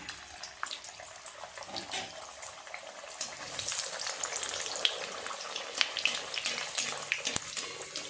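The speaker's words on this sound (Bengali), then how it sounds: "তেলটা খুব ভালোভাবে গরম হয়ে গেছে। এক এক করে দিয়ে দেব তেলের মধ্যে।" Kachoris stuffed with green peas slide one by one into a deep pan of hot oil for deep frying, giving a steady close bubbling sizzle that swells louder and busier in the second half, with no talk.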